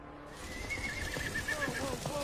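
A horse whinnies with a long, wavering neigh that rises and then trails off, close and loud against a rainy outdoor backdrop.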